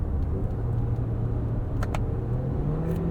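A 2024 Toyota Grand Highlander Platinum AWD with a 2.4 L turbo engine accelerates, heard from the cabin as a steady, moderately loud engine drone over road rumble, with a rising tone and a couple of brief clicks.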